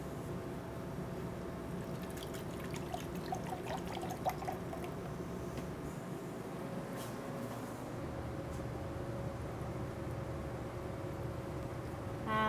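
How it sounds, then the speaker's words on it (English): Collagen chicken broth poured into a pan in a restaurant kitchen, a soft steady trickle of liquid lasting several seconds, faint and continuous under a low kitchen hum. "We're going to take 1 cup and we will pour this all over."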